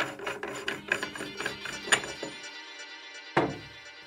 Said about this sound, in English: Unscrew this one.